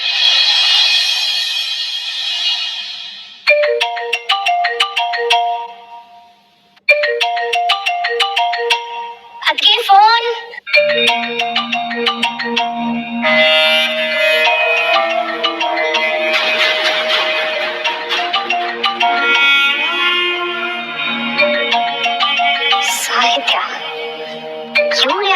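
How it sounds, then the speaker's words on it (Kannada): A mobile phone ringtone plays loudly as a repeating melodic tune of bright tones, stopping briefly and then starting again, with no talking over it. "ಇವಾಗ ಫೋನ್ ಮಾಡ್ತಾ ಇದ್ದಾಳೆ"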